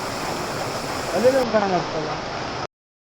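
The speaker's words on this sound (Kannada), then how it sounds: "ಇದೊಂದು ಕೃತಕವಾದ ಫಾಲ್ಸ್. ಯಾಕಂತ ಹೇಳಿದ್ರೆ ಪೈಪ್ ಮುಖಾಂತರ ಅಲ್ಲಿ ಎಂಡಿಗೆ ಬಂದು ನೀರು ಬರ್ತದೆ" Steady rushing of falling water from a pipe-fed artificial waterfall, close and continuous, with a voice speaking over it before it cuts off abruptly.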